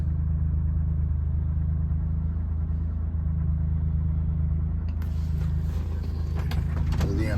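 A 1972 BMW Bavaria idling just under 1,000 rpm as it warms up after a cold start outdoors, a steady low rumbling drone that holds even throughout, with a brief rustle partway through and no speech.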